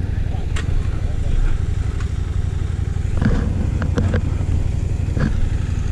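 A KTM motorcycle riding along a countryside road in Wales, its engine a steady low drone mixed with wind rumble, while a person talks over it.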